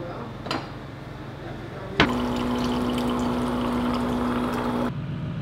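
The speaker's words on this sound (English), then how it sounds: "Kind of thirsty, so I'm gonna get some water." Water pouring at home, likely from a tap or dispenser into a glass: after a faint click, a steady stream runs close by for about three seconds at an even level, then stops abruptly.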